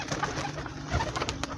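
Pigeons cooing close by, soft low murmuring coos repeating briefly over a constant background hum, with no talking.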